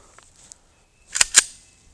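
Two sharp Sig Sauer P320 pistol shots at a range, heard as quick close reports in rapid succession after a near-silent lead-in, with no speech.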